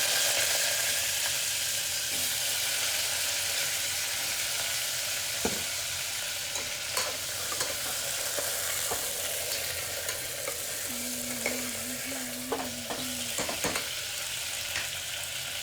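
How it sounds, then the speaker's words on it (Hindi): Pointed gourd (parwal) frying in hot oil with fenugreek seeds, a steady close sizzle with occasional stirring clinks and scrapes of a utensil in the pan. "डाल दिया है परवल, अच्छे से फ्राई कर लेंगे।"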